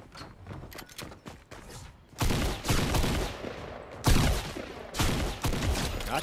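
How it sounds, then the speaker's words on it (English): Gunfire in the Fortnite video game on Nintendo Switch, with a Desert Eagle in play: quieter scattered shots at first, then two loud, dense bursts of rapid fire close by, no talk over them. "They're shooting at me."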